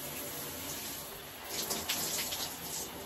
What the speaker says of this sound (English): I'm just in the shower.